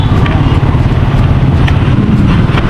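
The engine of a Suzuki motorcycle runs close by with a loud, steady, rough drone for a few seconds, and it seems to be idling.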